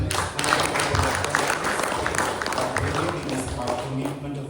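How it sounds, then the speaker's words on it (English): An event audience applauding panelists, a steady wash of many hands clapping in a room, moderately loud and sustained for several seconds with a slight fade. "Round of applause to our panelists."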